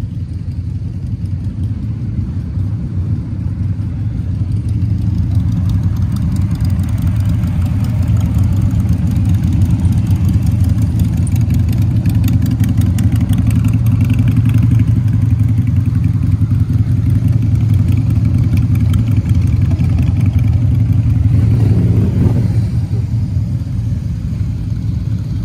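Dense crowd of motorcycles and American cars idling at an outdoor car and bike show, a steady, loud, low engine rumble that fills the whole stretch with no break.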